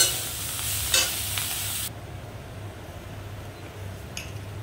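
Shrimp fry and get stirred in a pan, a loud bright sizzle with a couple of scraping strokes that suddenly drops to a quieter, duller hiss partway through, then another brief scrape.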